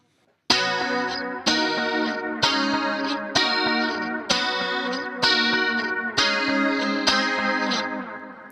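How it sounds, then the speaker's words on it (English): Clean 80s-style electric guitar through a Dynacomp compressor, big chorus, big reverb and long delay trails, playing eight evenly spaced shimmering chords, each ringing out with a wide, washy sustain before the next strike. "You've got a big chorus, a big reverb, long trails of delays, and the little secret weapon is the Dynacomp first in the effects line."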